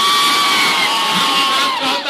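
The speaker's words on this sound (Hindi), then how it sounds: "ताली मत बजाइए, ताली बजाने का बारी अभी आएगा।" A large outdoor audience at a political rally in West Champaran, Bihar, cheers and shouts loudly and continuously, a broad roar of voices that fades slightly at the end.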